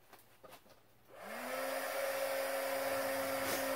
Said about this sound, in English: I think I'll turn on the heat gun.